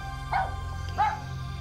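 A dog barks twice, two short sharp barks about half a second apart at moderate distance, over a low steady hum.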